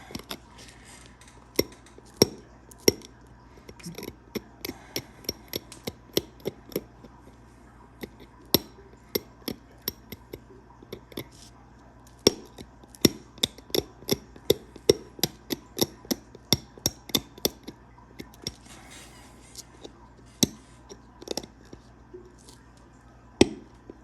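Flint knapping a pine-tree-shaped arrowhead gives sharp, close clicks and taps of stone on stone in an irregular stream, with dozens of crisp strikes and short pauses between clusters.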